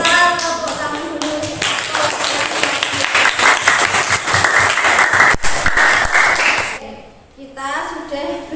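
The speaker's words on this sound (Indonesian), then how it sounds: "Oke, kita tepuk tangan dulu." A classroom of students applauds together, brisk, sharp clapping that swells, holds, then fades out, with a teacher speaking before and after.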